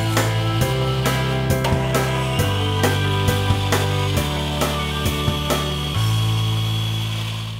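A table saw cuts sapele wood molding with its blade raised and the fence set to 3/4 inch. It gives a steady, loud motor hum with a whining tone throughout, broken by a few sharp clicks and small shifts in pitch.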